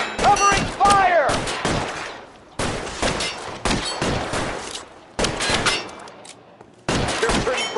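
Covering gunfire in the crime game LA Noire: repeated bursts of close, loud shots in several clusters, with shouted voices between and over the volleys.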